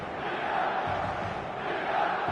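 A stadium crowd roars in eFootball 2026 on match day, a dense, steady wash of cheering and chanting filling the whole moment without pause.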